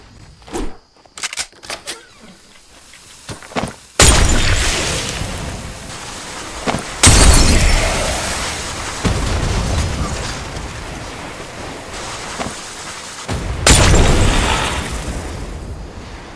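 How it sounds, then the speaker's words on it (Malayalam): A grenade or dynamite blast demolishing a building in a multiplayer video game, with loud roaring explosions and debris rumbling in several bursts after a few quieter clicks and taps at the start. "ഞാൻ അതിട്ട് ആ ബിൽഡിംഗ് പൊട്ടിക്കാം."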